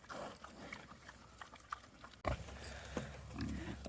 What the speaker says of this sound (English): here comes Mr. Pig hogging it all